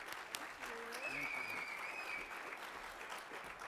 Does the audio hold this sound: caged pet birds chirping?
no